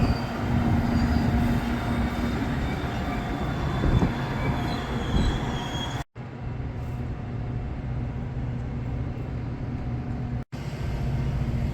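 A train rumbles past nearby on a busy line in Elmhurst, with a continuous low roar and faint wheel squeal, the noise holding steady throughout with brief cuts.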